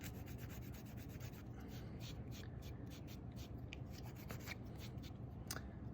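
A wooden stick rubs and scrapes steadily across a bar of soap, wearing a printed logo off its surface during a tiki carving; the close, continuous dry scratching runs the whole time with no talking.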